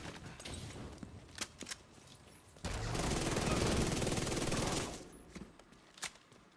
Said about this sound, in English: Hostile artillery. This boss has a mortar turret?